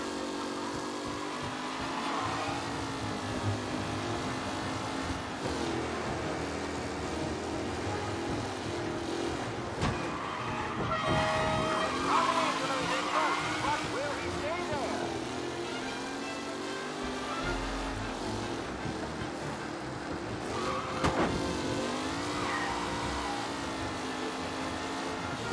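Race cars roaring around a track in a Mafia video game race, layered engine drones rising and falling in pitch as cars rev and pass, continuous and fairly close, with no speech.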